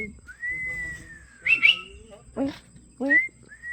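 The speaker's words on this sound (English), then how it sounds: "Hey, listen, he can whistle." A parrot whistles a long clear rising note, then breaks into shorter chirpy whistles and squawky bursts, close to the microphone with quiet pauses between.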